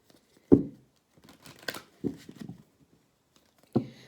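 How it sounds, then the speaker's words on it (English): Tarot cards riffle and slap in several brief bursts, close by, with quiet pauses between shuffles. "Set your intentions as I shuffle the deck."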